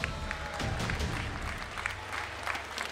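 Audience applause in the arena at an esports grand final for Counter-Strike, a brief burst of crowd clapping with a low rumble underneath, moderately distant and steady for a few seconds.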